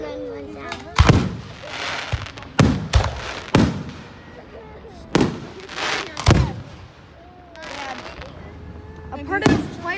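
Fireworks burst in a rapid series of loud sharp cracks and booms at a fire company display in Niagara, some very close, with people talking and exclaiming between the blasts.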